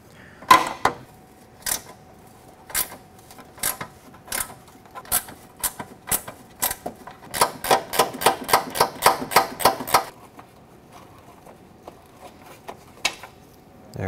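Ratchet clicking as it loosens an air dam bolt on a 2009-2014 Ford F-150, sharp isolated clicks at first, then a quick run of rapid clicks before trailing off to a couple of final ticks.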